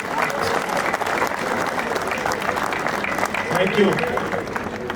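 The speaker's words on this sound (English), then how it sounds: "kindly give a huge round of applause to the students, the principal, the teachers, the coaches and the sports staff" A large crowd at a school athletic sports and drill display applauds students, staff and coaches, a loud dense roar of clapping and crowd noise with a brief spoken thank-you over it.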